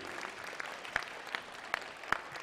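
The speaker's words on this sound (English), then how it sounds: "Please give another big round of applause for all of our Youth B semifinalists" Applause for youth speed climbing semifinalists at a world championship event: a steady wash of clapping from a crowd, with several sharper individual claps standing out, moderately distant.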